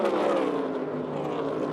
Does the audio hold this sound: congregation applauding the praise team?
no